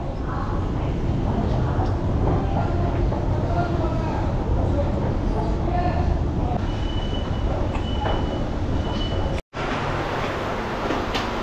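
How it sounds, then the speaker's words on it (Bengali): The Guwahati–Howrah passenger train rumbles loudly and steadily nearby, with dense rolling wheel noise and faint clatter that drops out briefly near the end before resuming, and voices are heard under it. "এটা আমাদের ট্রেন গুয়াহাটি হাওড়া"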